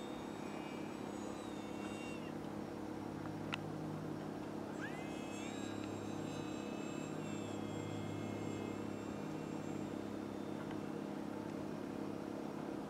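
A Durafly Excalibur RC model airplane flies with a steady electric motor whine that rises and shifts in pitch as it moves. A continuous broadband drone underneath comes from the recording's surroundings.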